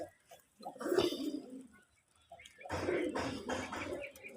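Native pigeons on a rooftop pigeon farm cooing in two bursts of low, throaty calls close by, with a brief quiet gap between them.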